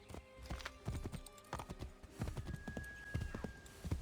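Hooves of a horse clip-clop in Assassin's Creed 3, a steady quick rhythm of close thuds, mostly alone with a faint tone in the background.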